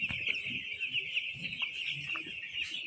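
Several chickens cluck close by on freshly laid sand, with repeated short clucks over a steady high-pitched insect-like drone.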